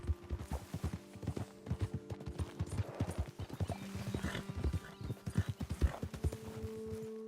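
Hooves clip-clop steadily at a walking pace in Red Dead Redemption 2, several horses close by, with a horse whinnying partway through.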